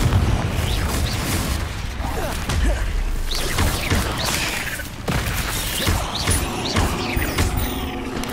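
Hogwarts Legacy spellcasting in a fight, with Bombarda and Confringo blasts going off in a dense, continuous barrage of booms, whooshes and impacts, while a voice talks underneath.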